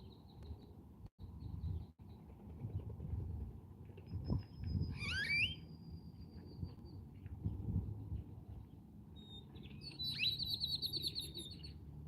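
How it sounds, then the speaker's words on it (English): Wild birds chirp outdoors, a few sharp, high tweets and short trills standing out clearly at moderate distance over a low rumble of background noise, with no talking. "I'm just right here recording these birds"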